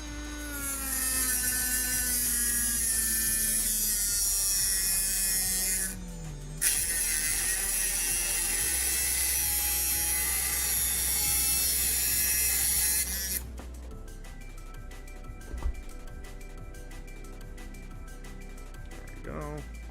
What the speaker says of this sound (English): The die grinder.